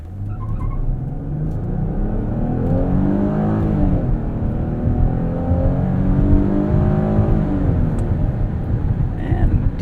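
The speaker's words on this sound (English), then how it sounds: "Let's do a little braking test in 0 to 60 here while we have some open road." A 2020 Chrysler Pacifica Limited minivan accelerates hard from 0 to 60 on an open road, its engine rumble rising through the gears with steady road and wind noise inside the cabin.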